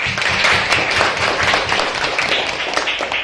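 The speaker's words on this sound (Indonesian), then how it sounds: "Mari kita tepuk tangan buat Ari ini." A classroom of young children claps together for a classmate, a dense, steady burst of applause that fills the room for several seconds, with a few voices mixed in.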